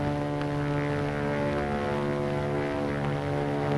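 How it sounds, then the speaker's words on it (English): A WWII fighter plane, a P-40 or Japanese Zero, drones overhead with a steady propeller engine hum, constant and fairly loud throughout with no voices. "It's a plane, all right. But what sort of a plane? Friend or enemy? P-40 or Zero?"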